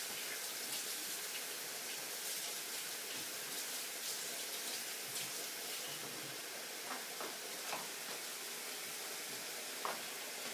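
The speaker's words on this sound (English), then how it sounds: "And maintain washing my hands, because always need a clean chef." Hands being washed under a running kitchen tap while cooking a stir fry, a steady broadband splash of water flowing continuously at close range with small irregular spatters and no voices.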